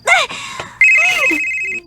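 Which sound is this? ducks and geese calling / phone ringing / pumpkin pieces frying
phone ringing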